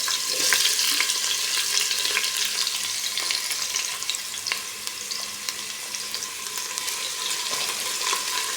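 Ginger and onion frying in a pan as the base for octopus adobo with coconut milk, a steady close sizzle with occasional stirring scrapes throughout, no talking.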